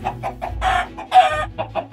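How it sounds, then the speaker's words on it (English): Chicken clucking in Minecraft: a string of short clucks in a steady rhythm, broken by two longer, louder squawks, all clear and close with no voices. "I then left the base and then went into a field where I found a little chicken"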